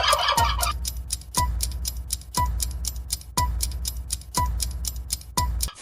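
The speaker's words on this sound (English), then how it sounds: "only male turkeys actually make the gobble sound" Turkey gobbling in a rapid burst, then a steady series of repeated gobble calls at regular intervals, loud and close with no talk.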